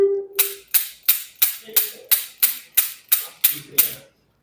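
Ten sharp gunshots from an eight-shot firearm fired in a steady, evenly spaced series at a shooting range during a safety class, after a whistle signal, each crack loud and close with a quick decay, with no talk over them.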